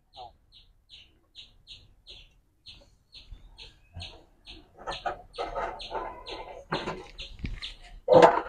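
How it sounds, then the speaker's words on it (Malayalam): Domestic country hens in a coop give a series of short, evenly spaced clucks, close and fairly quiet, followed by more agitated calls and rustling toward the end, with faint talk in the background. "ഇതിൽ നാടൻ കോഴി ആയിരുന്നേ."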